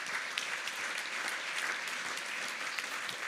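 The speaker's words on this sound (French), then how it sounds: "Vous pouvez vous applaudir" Sustained applause from an audience at a public talk on municipal politics, a dense, even wash of many hands clapping at steady volume for the full stretch, with no voices over it.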